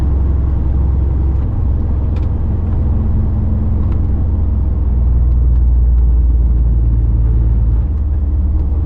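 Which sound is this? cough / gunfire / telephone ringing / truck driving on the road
truck driving on the road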